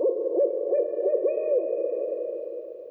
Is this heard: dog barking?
no